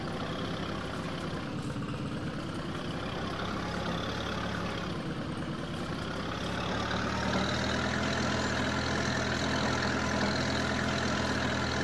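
Tractor engine idling in Farming Simulator 22, a steady low diesel rumble that holds even and continuous, growing slightly louder toward the end, with no talk over it.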